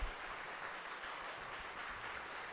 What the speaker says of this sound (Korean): 다시 한번 박수 주시죠